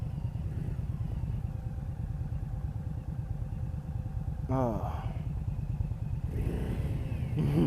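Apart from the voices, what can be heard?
Indian Scout Bobber motorcycle engine revving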